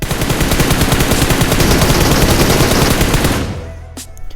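Dense automatic gunfire from the PUBG Mobile video game, played on an iPad Air 4, rattles loud and continuous for several seconds, then stops abruptly, leaving a few faint clicks.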